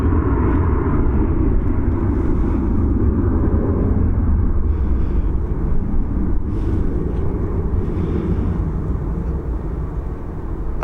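A Bombardier Global 6000 business jet takes off from Dublin Airport with a loud, steady broadband roar. The sound stays dense and unbroken for the whole stretch, then fades slightly toward the end.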